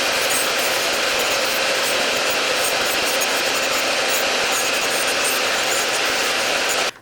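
An electric nail drill, or e-file, grinding gel polish off nails: a steady, close, high whirring and rasping buzz that holds for about seven seconds, then cuts off, with no talking.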